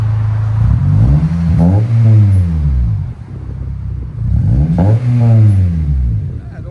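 A 2002 Acura Integra Type S with a Skunk2 cat-back exhaust, loud and close, rising twice in revs from a rumbling idle and falling back, the deep exhaust note sweeping up and down.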